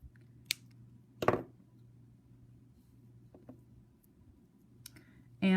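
Flush cutters snip the wire tail on a beaded Swarovski crystal and silver necklace. Two or three sharp clicks are separated by quiet pauses, close and clear, with no speech.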